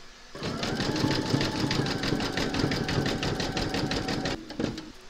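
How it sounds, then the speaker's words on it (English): An embroidery machine zigzag-stitches a round joining two appliqué pieces on a large Mrs Claus design, a steady fast mechanical chatter running loud and continuous for several seconds before stopping near the end. "pop your hoop into your machine and then you're going to stitch round number 5, and that's going to zigzag and join the two pieces together"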